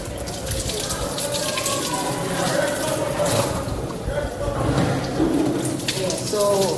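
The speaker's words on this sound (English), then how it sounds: "so I'm gonna wash out these paintbrushes." Tap water runs steadily from a faucet as paint is washed out of brushes in a sink, a continuous splashing stream with a person talking over it.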